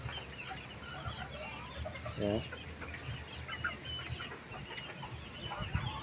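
Young roosters on a poultry farm give a brief crow and scattered clucks from penned fowl, heard over steady farmyard background noise, with a short spoken interjection.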